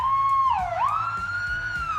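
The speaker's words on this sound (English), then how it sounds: "This is the switch for the siren on the Ford Fairlane." Siren on a restored 1950s Ford Fairlane police car, a single steady wail that sags in pitch, then swoops back up and holds, heard close and clear.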